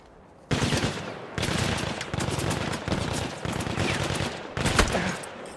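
Bursts of automatic rifle fire from Battlefield 1, a player shooting while standing and aiming down sights under suppression, come in several long, loud sustained strings separated by short pauses.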